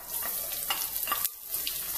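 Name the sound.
garlic sautéing in a pan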